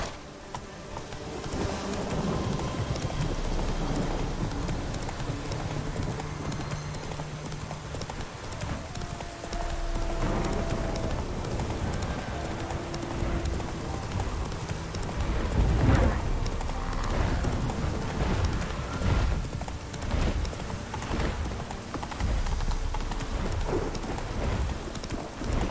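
Roach, the horse in The Witcher 3, gallops in a steady clip-clop rhythm of hooves through rain, with distant thunder rolling underneath.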